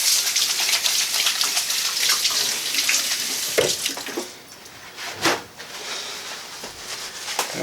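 Tap water runs steadily into a sink while something is rinsed out after baking jam-filled crescent rolls, with splashing bursts and gushes breaking up the continuous flow.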